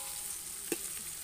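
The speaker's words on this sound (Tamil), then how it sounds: "வெங்காயம் வதங்கிச்சு பாருங்க" Onions fry in hot oil for biryani, a steady soft sizzle throughout with one brief clink of a utensil partway through.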